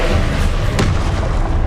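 The Expelliarmus spell cast in Hogwarts Legacy, a loud, dense, booming magical blast with a rumbling low end and a brief sharper crack near the middle, close and sustained.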